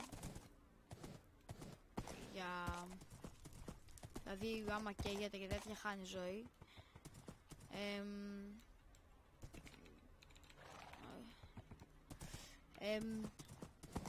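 Horse hooves clip-clop in the video game Minecraft as a series of quick, irregular clicking steps, heard under someone talking through much of the stretch.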